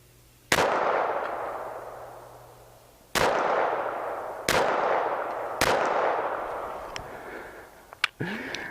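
Walther P22 pistol fired outdoors at a target, four loud sharp shots spaced a second or more apart, each trailing off in a long echoing decay, followed by fainter clicks and handling noises.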